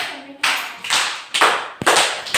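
Children clap in a primary school classroom during an English word wheel activity, several loud bursts of group applause in an uneven rhythm, each fading quickly, with no talk over them.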